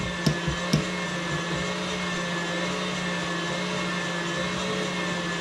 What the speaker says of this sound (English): Listen to my mixer. Okay, sounds like it's time for a new KitchenAid.